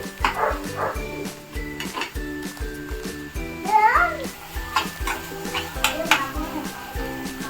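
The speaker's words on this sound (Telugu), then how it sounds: "అల్లం వెల్లుల్లి పేస్ట్ అనేది బాగా వేయించాలి" Ginger garlic paste fries in a pan for paneer curry, stirred with a steady scrape and clatter of a spoon against the pot under a soft sizzle, loud and close.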